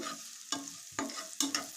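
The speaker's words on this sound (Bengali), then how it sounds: "চাউমিন তো ভাজা ভাজা হয়েছে একটা ডিম দিয়ে দিয়েছি ডিমটা ভালো মতো নাড়াতে লাগবে" Chow mein with onion, green chilli, carrot and an egg is stirred in a frying pan, soft sizzling underneath four crisp spatula scrapes at a regular pace, close and quiet with no talking.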